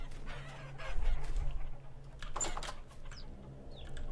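Chickens cluck in short, scattered bursts in the video game Vintage Story, set over a low, steady ambient background with no voices.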